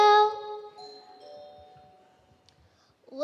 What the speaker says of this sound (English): The pig pressed the button on the video doorbell.